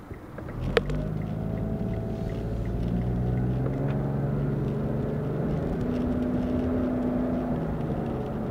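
A 2014 Mitsubishi Mirage engine growls steadily as the small car accelerates, a low droning hum with rising tonal whine and road rumble, continuous and close from inside the cabin.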